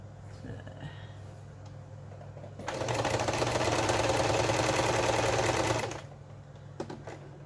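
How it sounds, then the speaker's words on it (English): Sewing machine stitching binding around the edge of a patchwork quilt: a fast, even mechanical whir that starts abruptly, runs steadily for about three seconds, then stops, with quieter handling noise before and after. "And I'm going to stitch all the way around."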